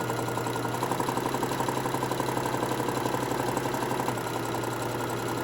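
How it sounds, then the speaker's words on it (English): A sewing machine runs steadily while stitching a Santa tote bag, giving a continuous close mechanical whir with a fast pulsing rhythm. "then I'm going to keep sewing"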